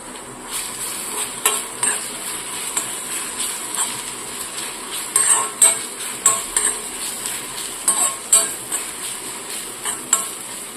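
Constant oily sizzle with irregular scraping and clinking as a utensil stirs through a pan, strokes coming in uneven bursts throughout.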